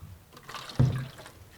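Half a cup of water poured into a container of dissolved fabric dye for crumple dyeing, a short close trickle and splash that rises suddenly and fades within a second, heard alone.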